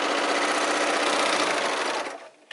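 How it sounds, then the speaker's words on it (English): A sewing machine stitches fabric in a close, loud, steady high-speed whir that runs without a break, then slows and stops near the end. "sew straight down the back as well"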